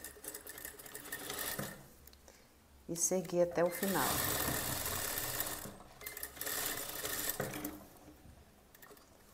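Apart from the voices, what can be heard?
sewing machine sewing a zipper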